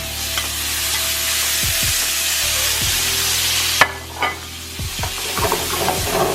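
Tomatoes drop into a pan holding leftover fat from seared pork and sizzle steadily. A few scraping stirs and utensil clicks stand out over the loud, continuous frying hiss.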